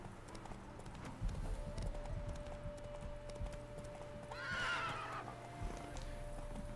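Roach the horse galloping in The Witcher 3, a steady run of clip-clop hoofbeats under game music, with a brief neigh rising near the end.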